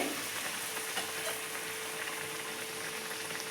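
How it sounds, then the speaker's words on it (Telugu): Snacks made from banana and wheat flour fry steadily in hot oil over a low flame, giving a continuous dense sizzle and crackle with no voices. "ఆయిల్ కూడా బాగా వేడి అయిపోయింది ఒక్కొక్కటి తీసి ఆయిల్లో వేసుకునేస్తాము"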